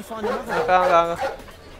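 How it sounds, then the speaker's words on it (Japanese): A dog yips and whimpers in the Sherlock Holmes: The Devil's Daughter video game, a short run of high, harmonic barks that sound close and clear, with no talking over them. "吠えるんじゃない"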